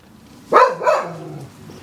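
One dog gives a single close, loud bark followed by a shorter second bark that trails into a low whine, with no talk.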